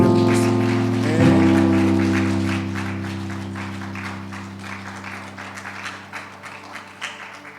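A church congregation claps during a Sunday service as sustained organ or keyboard chords ring out, with the applause growing into scattered, rhythmic claps as the music fades.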